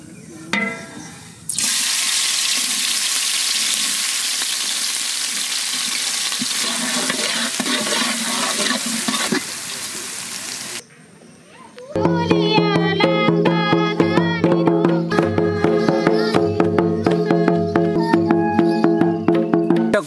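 Chopped ginger and green chili hit hot oil for begun bharta, a loud steady sizzle and hiss running for about ten seconds, then giving way to brighter clattering and stirring sounds near the pan.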